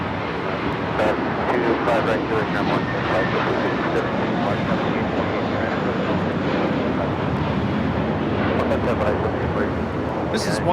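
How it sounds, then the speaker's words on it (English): A JetBlue Airbus A321 bound for JFK takes off from Los Angeles airport with a dense, loud, sustained engine roar mixed with wind buffeting, while someone talks over it. "This is one giant leap for Mint Kind taking off to JFK. JetBlue 524, it's an A321."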